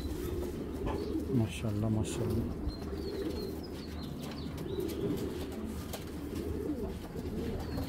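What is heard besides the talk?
pigeons cooing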